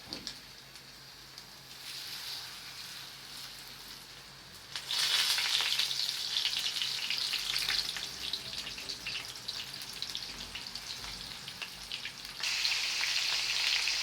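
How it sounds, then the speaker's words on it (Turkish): Flour-coated eggplant frying in hot oil with a steady crackling sizzle that surges louder as more pieces go in, close and continuous without talk. "Kızgın yağın içine una buladığımız patlıcanlarımızı koyuyoruz."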